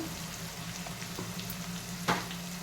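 Eggplant and tomato curry fries in oil with turmeric, a steady low sizzle with soft stirring scrapes and one sharp clatter near the end.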